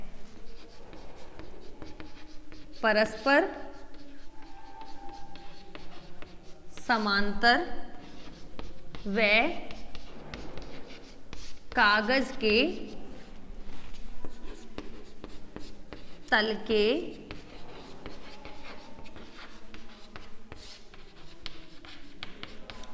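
Pen writing on paper at close range, with scratchy strokes in several bursts under steady talk from a teacher.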